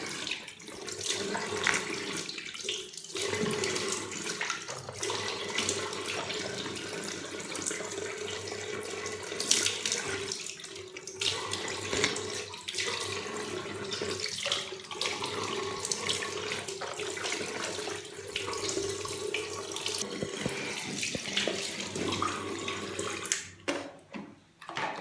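Tap water runs steadily from a bathroom faucet into a sink while teeth are rinsed, a continuous close splashing stream with no talk.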